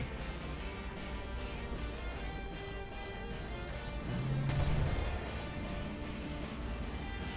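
Cannon fire and explosions from tank combat in the War Thunder video game, fought with a Tiger II, heard as a muffled battle din with a louder crashing shot near the middle, no talking.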